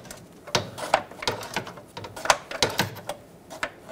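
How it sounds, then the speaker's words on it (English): A ratchet turns a socket on an oxygen sensor of a Dodge Grand Caravan, a quick series of close, crisp clicking pawl strokes in irregular bursts. "Then you'll have to put your ratchet on the socket so you can get some leverage."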